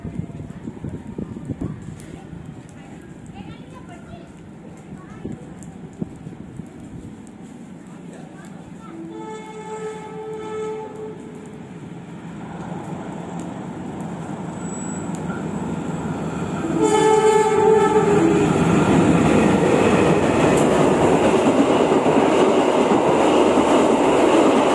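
The Doho KA363 passenger train approaches and rumbles past an abandoned halt at Ngagel in Indonesia, close by, loud and steady, with a horn sounding partway through; no voices.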